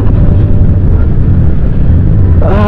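A Benelli Patagonian Eagle 250 motorcycle's deep exhaust rumbles continuously up close. Near the end a brief higher whine rises over it.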